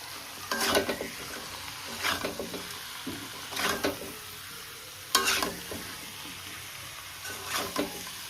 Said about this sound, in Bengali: কড়াই নাড়াচাড়া করে